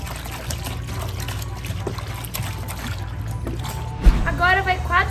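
A gallon of whole milk poured into an ice cream base, a continuous dribbling pour heard under a person speaking, with a brief knock near the end.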